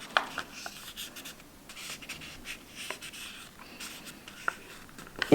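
Origami paper is folded and creased for a rose, giving soft, close scraping and rubbing strokes with a few tiny crisp ticks, quiet and intermittent, with no talking.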